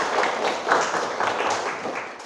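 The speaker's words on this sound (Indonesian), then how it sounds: "tepuk tangan untuk Nabila" A classroom of students claps for a classmate. Dense, steady clapping lasts a couple of seconds at close range, with no talking over it.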